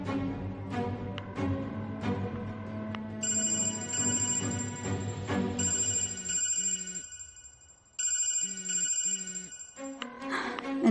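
A telephone rings out on an unanswered call, its repeated electronic ring pattern with short pauses coming through over a background of dramatic music.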